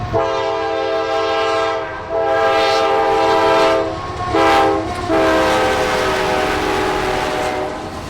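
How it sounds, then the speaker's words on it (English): A freight train hauling new cars, trucks and SUVs, including Jeep Wranglers, sounds its horn in several loud sustained blasts with short breaks while the train rumbles past close by. "A trainload of new cars, trucks, and SUVs from the Motor City came rolling through town"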